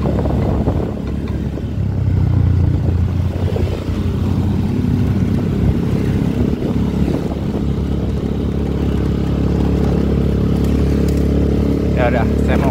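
A Yamaha Freego 125 scooter with a 59mm bore-up runs at full throttle, a loud, steady engine drone buffeted by heavy wind noise, with a voice speaking over it at times.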